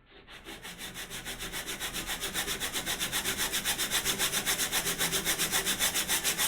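Coarse 80-grit sandpaper is worked over wood to take off heavy material, a steady rhythmic rasping of strokes back and forth, loud and close with no voices.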